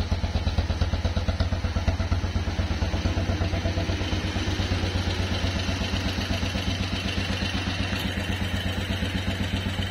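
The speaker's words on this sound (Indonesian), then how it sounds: "Suara knalpotnya juga" Close, steady idle of a 1956 BMW R26 motorcycle exhaust, a regular low thumping beat with light mechanical clatter running unbroken throughout.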